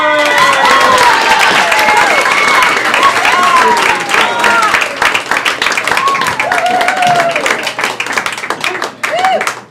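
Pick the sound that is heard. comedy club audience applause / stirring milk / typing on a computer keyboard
comedy club audience applause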